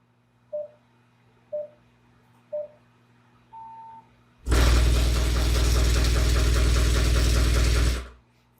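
A B2 Audio Rampage 12 Elite subwoofer driven with a 10 hertz tone produces a loud, sustained rumbling roar with buzzing rattle for several seconds, preceded by a few short beeps.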